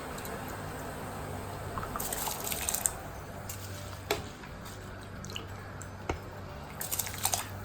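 Rice goes into water boiling with whole biryani spices such as cinnamon and cardamom, giving a faint, steady wet bubbling and soft splashing with a few small plops, quiet and without voices.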